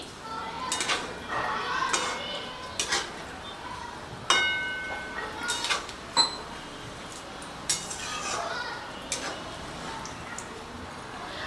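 A utensil stirs lemon pepper chicken in a pan, giving sparse metallic clinks and scrapes against the pan, moderately close, with quiet gaps between them.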